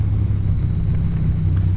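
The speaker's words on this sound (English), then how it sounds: "that V-twin, it's actually an L-twin, 90-degree angle, L-twin motor" A Ducati 900SS with a 90-degree L-twin engine: a loud, steady low rumble that drones without a break, with a deep throb and no clear rev changes.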